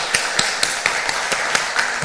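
Members of a church congregation at an Easter Sunday service clap for newly registered members in a slow, sparse rhythm, each distinct clap standing out close against a quiet room.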